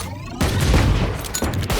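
An explosive goes off in a Rainbow Six Siege-style tactical shooter match, a sudden loud broadband blast followed by rumbling, crackling debris and low ongoing game noise.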